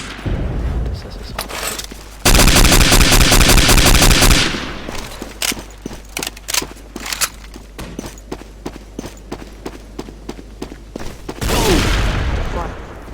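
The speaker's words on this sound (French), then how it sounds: "vous pouvez endosser l'arme et faire feu" Weapon fire in the World War II shooter Day of Defeat: Source, with a sustained automatic burst, then a rapid string of sharp single and short-burst shots, ending in another heavy volley; loud and close, with no talk over it.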